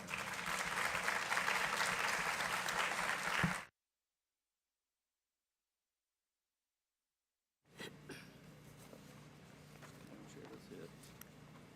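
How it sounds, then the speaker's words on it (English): A room at a school board meeting breaks into applause, a dense wash of many hands for a few seconds, then the sound cuts out and resumes as quieter murmuring and room noise. "So I would say give them a round of applause as well."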